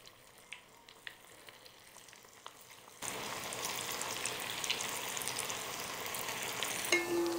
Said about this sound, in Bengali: একে একে সবগুলো ভেজে নিচ্ছি